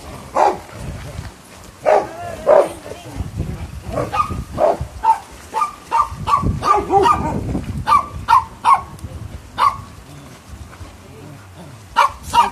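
Several dogs bark excitedly in quick, uneven bursts before going out for a walk, some yips and whines mixed in, with people talking in the background.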